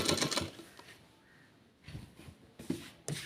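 A sewing machine stitching a trouser pocket edge, running in short bursts: a loud stretch at the start, a quiet pause, then several brief runs of stitching close by.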